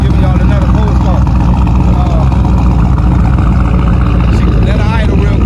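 Chevy Tahoe V8 with a DoD delete and aftermarket cam idling, a loud constant rumble with a rhythmic lopey chop, close by.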